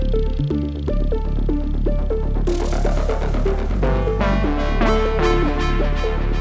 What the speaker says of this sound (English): because we cranked the drive up to 11,